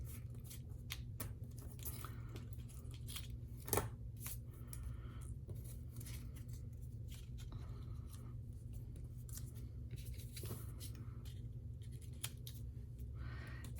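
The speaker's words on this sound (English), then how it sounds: "we are going to trim down everything that's poking up over the card" Scissors snip through paper while trimming around the edges of a handmade card, giving quiet, close, irregular cutting clicks and crisp rustles over a faint steady background hum, with no talking.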